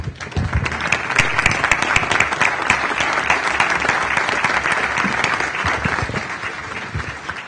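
Sustained, dense applause from a seated audience greets Melinda, a team member asked to stand during a meeting. It holds steadily loud for the whole stretch, with sharper individual claps popping out of the wash and no talk over it.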